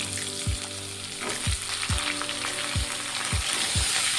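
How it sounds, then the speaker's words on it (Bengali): Jackfruit seeds and pumpkin pieces fry alongside potato in a hot pan, a constant crackling sizzle punctuated by about six regular spatula strokes scraping across the pan. "কুমড়োটাকে দিয়েও এক দু মিনিট ভেজে নেবো"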